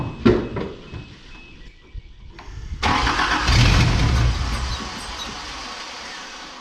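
An old, rusty car engine fed by fuel poured into the carburetor cranks with a few sharp starter bursts, then catches and runs as a steady, loud mid-pitched rumble that eases off slightly, heard up close.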